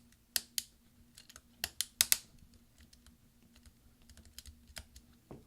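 Key clicks from a mid-2010 13-inch MacBook Pro (A1278) as a replacement right Command key is pressed down onto its hinge clips, several sharp snaps in a cluster followed by lighter scattered taps, close and alone over a low steady hum.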